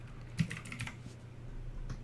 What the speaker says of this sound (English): I'll type for her.